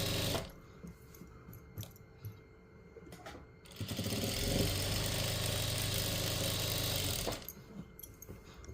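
Sewing machine stitching lining onto a double-sided pillowcase, a steady close mechanical whir lasting several seconds, with quiet handling sounds before and after.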